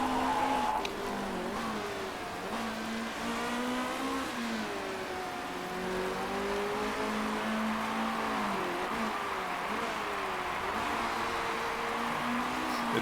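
Race cars in the Motorsport Manager game, on the 2016 Black Sea circuit, pull away with a steady, sustained whining engine drone whose pitch rises and falls as they accelerate, continuous and fairly loud throughout.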